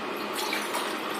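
Water pours steadily into a pressure cooker holding three glasses of old fine rice on an induction stove, a continuous close splashing rush that runs alone without pause.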